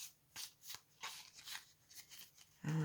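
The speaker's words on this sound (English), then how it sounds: "I sometimes just take sections and shuffle this way." A tarot card deck is shuffled close up in a series of quick, papery riffles and slides, about half a dozen bursts with soft pauses between.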